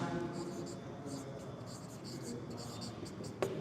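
Writing on a board during a Sanskrit class, a scratchy stroke-by-stroke scribbling sound in short bursts, heard under a teacher's steady talk.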